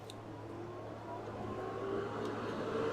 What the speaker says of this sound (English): Turn the fan on, make it noisy.